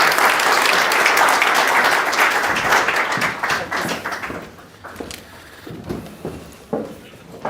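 A conference audience at the Arab London Conference breaks into loud, sustained applause to welcome Dr. Husam Zomlot. The clapping thins after a few seconds into scattered claps and a few knocks.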